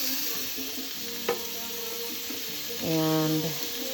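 Ground beef fries in a pan with a soft, continuous sizzle, broken by a sharp clink and a short tonal whine partway through.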